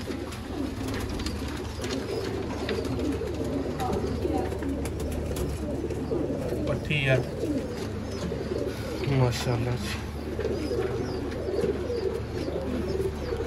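Sialkoti pigeons cooing, a continuous low murmur of coos heard close by, with someone speaking over it.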